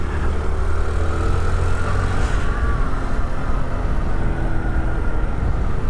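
Honda Trail 125 motorcycle running steadily while being downshifted, a continuous low engine hum with a faint higher tone, close and without speech.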